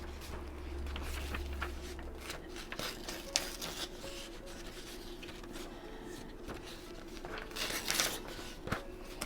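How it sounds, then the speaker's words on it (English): Typewriter paper sheets being torn out for a junk journal craft, with soft tearing, rubbing and crinkling sounds close by, fairly quiet, with no talk. "Let's tear a couple of those out"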